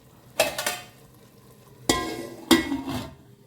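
A spoon stirs prawn biryani masala in a pot, with three separate scraping, sizzling bursts spread across a few seconds and quiet gaps between them; no talking.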